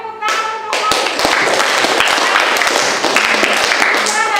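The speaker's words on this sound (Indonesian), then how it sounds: "tepuk tangan untuk Novi" Classroom of students applauding a classmate during a lesson on social mobility, a dense burst of hand claps running steadily for several seconds, close and loud, with a voice briefly audible at the start and end.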